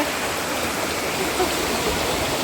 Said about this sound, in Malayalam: ഇങ്ങനെ വെള്ളം ഒഴുകുന്നുണ്ട്